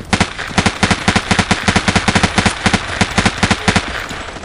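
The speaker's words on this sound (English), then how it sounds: "this is an automatic weapon. I'm just burst firing because it's, when I'm far away, it's hard" An automatic weapon in Battlefield 3 fired in short bursts: rapid, loud, evenly spaced shots in clusters, close and alone without talk.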